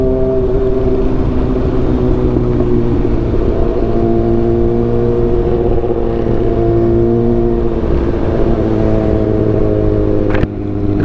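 A Kawasaki 600cc big bike idles and revs loudly and steadily close by, its engine drone holding strong throughout with a brief click near the end.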